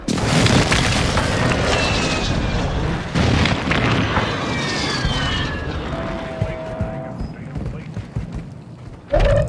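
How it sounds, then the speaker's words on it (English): Friendly airstrike in a video game: deep booming explosions rumble steadily under continuous battle noise, with aircraft-like whooshes sweeping through and a final loud blast at the end. "Friendly airstrike on the way."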